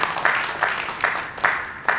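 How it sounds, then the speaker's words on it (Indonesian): Audience clapping for the Ciawi police at a formal speech event, coming in repeated swells of hand claps about every half second, moderately loud and fairly close. "Tepuk tangan dulu kita kepada Polres Ciawi."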